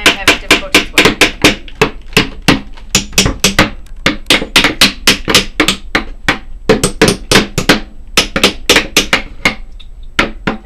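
Nails hammered into a wooden beehive bottom board, a rapid run of loud, sharp strikes in bursts with brief pauses, close by and with no talk.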